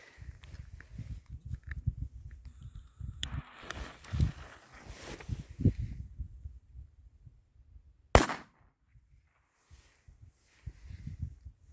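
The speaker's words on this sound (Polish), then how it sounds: "Petardka walnęła sobie" Outdoors in a field with wind rumble and rustling, a single sharp, loud bang from a Piromax RC3 firecracker cracks out partway through, followed by quieter handling noises.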